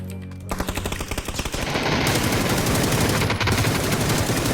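Gunfire in the video game PUBG: a rapid burst of automatic weapon fire that starts with distinct shots and builds into a loud, dense, continuous stream of shots.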